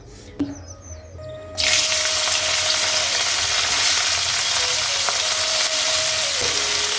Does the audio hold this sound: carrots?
yes